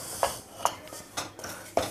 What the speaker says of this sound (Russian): И мешаем. Постоянно помешиваем.